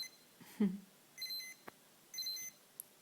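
A Tamagotchi electronic toy from 1997 gives a few short, high beeps in separate bursts, quiet and close, with faint clicks between them.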